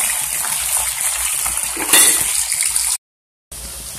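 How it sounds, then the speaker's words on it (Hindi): Cauliflower (gobhi) pieces frying in oil in a pan, a continuous bright sizzle with scraping stirs and a louder clatter midway, then a brief break before the sizzling returns. "और इसको हम चलाते रहेंगे ताकि पक रहेंगे"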